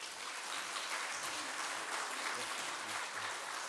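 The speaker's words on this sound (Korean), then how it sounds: "이제 우리 강사님 나오실 때 박수로 환영해 주시기 바랍니다." A church congregation applauds to welcome a guest lecturer to the front at a Sunday service, a dense, steady wash of many hands clapping at moderate distance for a few seconds.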